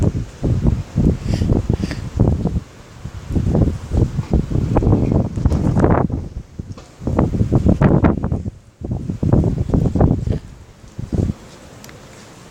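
Strong gusting wind during a category 1 windstorm roars in repeated surges against the microphone, with rustling and buffeting bursts rising and falling over about twelve seconds, loud and close.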